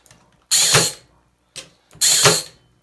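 Two sharp, loud shots from a Parkside cordless nailer driving 32 mm nails into 15 mm plywood over pine board, each a bright mechanical snap with a short whir, spaced about a second and a half apart.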